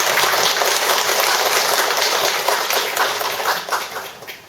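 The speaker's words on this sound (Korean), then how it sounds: "박수로 환영해 주십니다." An audience at a Korean Buddhist school entrance ceremony gives sustained, lively applause to welcome a speaker. The crowded clapping holds steady before tapering off near the end.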